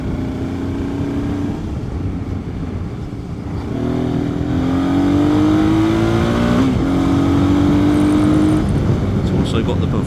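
A Honda Africa Twin RD07 motorcycle engine revs up with a rising, sustained drone that climbs in pitch and holds loud and close, with a steady rumbling undertone throughout.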